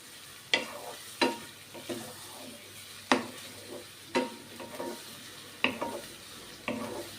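Thinly sliced raw kantola (spiny gourd) cooking in hot oil, stirred with a utensil: a soft steady sizzle under repeated sharp scraping strokes against the pan, close up and without speech.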